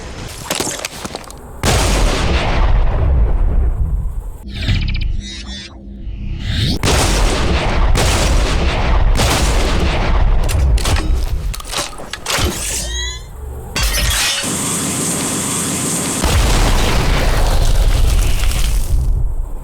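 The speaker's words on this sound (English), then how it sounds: "The Bone Duster is a quad-barrel, charge-up shot-capable, thunderous machine of death." Bone Duster quad-barrel shotgun in the video game Bulletstorm firing a string of loud, booming blasts, dense and thunderous, with brief gaps between volleys and no talk.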